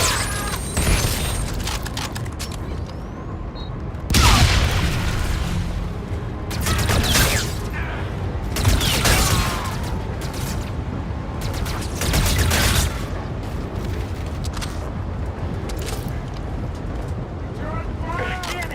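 Bursts of automatic gunfire fired down from a rooftop in the video game Call of Duty Infinite Warfare, with sharp loud volleys recurring every few seconds over wind and mechanical battle noise, while voices speak in between.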